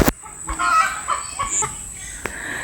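A chicken clucks agitatedly at close range, several short squawks after a sharp knock.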